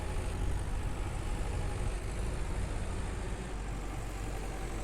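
CX tractor in Farmer's Dynasty running steadily while hauling grain, a dense low engine rumble with broadband noise, constant and close throughout with no talk.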